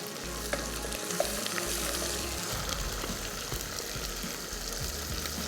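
Peas tipped into a hot, aromatic tadka sizzle and fry loudly, a dense continuous crackle with a low rumbling stir beneath, steady throughout at close range.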